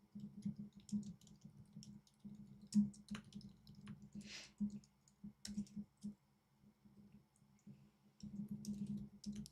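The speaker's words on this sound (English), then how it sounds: "I'm typing up the announcement in Discord." Someone types on a computer keyboard, a brisk run of light, close clicks with short pauses, over a low steady hum.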